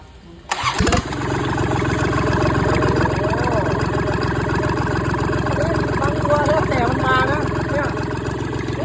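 A Kubota D1105 three-cylinder 25 hp diesel engine with its original Japanese head cranks and catches within the first second, then idles with a steady, loud, close chug for the rest of the clip.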